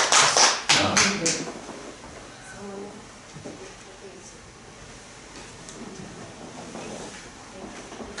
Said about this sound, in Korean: 설교보다 더 은혜스럽다. 박수.